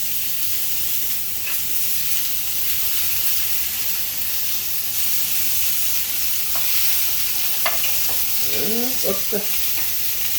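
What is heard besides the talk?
tuna searing in a pan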